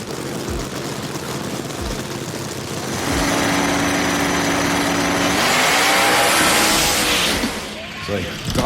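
A Chevelle and a Twin Turbo Firebird roar down a drag strip, their engines building to a loud, sustained blare that swells midway and fades near the end, with an announcer talking over them.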